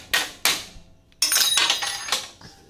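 Sharp metal strikes from a multi-tool used like a hammer while taking a car apart: two hard isolated hits, a pause, then a clattering run of knocks and clinks fading out.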